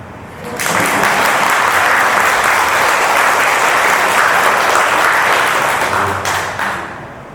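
Applause from members of a Buddhist couples' lay association at a temple dharma service, a dense, steady wash of many hands clapping for about six seconds before tapering off, with no talking.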